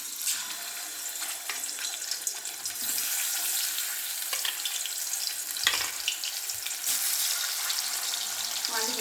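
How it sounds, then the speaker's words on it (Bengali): Fish frying in hot oil gives a continuous bright hiss and crackle, with wet splashing bursts throughout at steady loudness. "এর মধ্যে আমি দিয়ে দেবো মাছগুলো"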